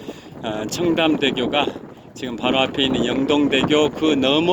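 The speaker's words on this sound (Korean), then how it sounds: "바람이 굉장히 많이 세게 붑니다." Strong wind buffeting the microphone while cycling along a river near bridges in Seoul, a steady rushing roar under someone talking continuously.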